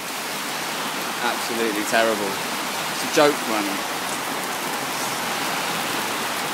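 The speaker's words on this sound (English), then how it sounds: "It's raining again." Steady hiss of rain falling onto corrugated shelter roofing during a wet cycle-touring day in Italy, a dense constant patter close by, with someone talking briefly over it.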